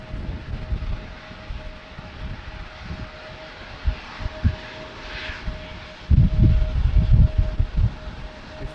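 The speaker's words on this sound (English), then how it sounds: "The Embraer taking the shortcut and taking off in front of us." An Embraer jet takes off from a windy runway at Amsterdam Schiphol, its engine roar a steady broadband rumble that swells louder near the end, with gusty wind buffeting the microphone throughout.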